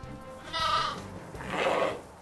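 A sheep bleats twice on a farm, each call a drawn-out, wavering cry about a second apart, close and fairly loud over a low background rumble.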